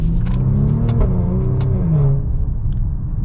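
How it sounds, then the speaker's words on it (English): Exhaust of a 2022 Maserati Levante Modena in sport mode with valves open, accelerating: a loud, continuous deep engine rumble with rising tone that eases slightly near the end, heard close and alone. "This exhaust sounds really good, especially when the valves are open."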